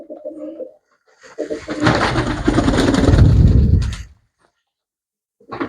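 Pigeons kept for sale cooing up close: a short soft coo, then a longer, louder stretch of throaty cooing and rustling, followed by a pause and another coo at the end, with no talk.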